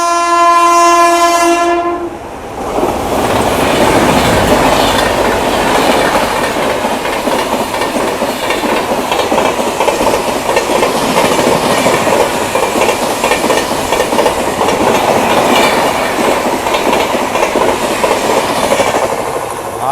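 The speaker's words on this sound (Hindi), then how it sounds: "ये थी 12488 सीमांचल एक्सप्रेस, आनंद विहार से जोगबनी" The 12488 Seemanchal Express passenger train from Anand Vihar to Jogbani passing at speed, opening with a loud horn blast, then a sustained roaring rumble and rhythmic clickety-clack of wheels over the rails as the carriages rush by close.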